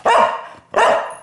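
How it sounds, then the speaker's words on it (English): A dog barks twice in quick succession, loud and close, with a short gap between the sharp barks and no voices. "Please excuse Poppy barking"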